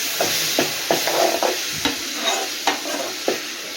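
Tomato and onion for a brinjal curry sauté in a pan with a close, steady sizzle. A ladle scrapes and stirs in regular strokes about every half second, with no voices.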